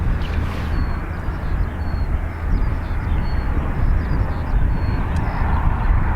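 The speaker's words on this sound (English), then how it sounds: "It's an Icelandair Max 8, I think. Max 8, yeah. Off to Reykjavik." An Icelandair Boeing 737 Max 8 jet taking off from Dublin Airport, a steady broad roar that fills the whole stretch at constant loudness, heard from a distance with no voices.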